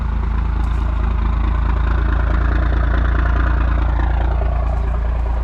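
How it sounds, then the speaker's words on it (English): A straight-piped 12-valve first-generation Cummins diesel truck engine idles loudly and steadily with a deep, constant rumble and rattle, close by, no talking. "But you get up here by this 12 valve rattling engine, you can't even hear yourself talk."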